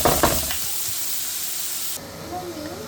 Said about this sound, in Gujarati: ચાલો આપણું જીરું ને બધું શેકાઈ ગયું છે તો એ ડુંગળી નાખી દઈએ એમાં